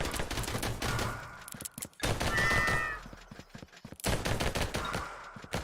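Rapid dual-wielded gunfire from Vampire Hunters rattles in fast, dense bursts, loud and close, broken by brief pauses, with a horse-like whinny cutting through midway.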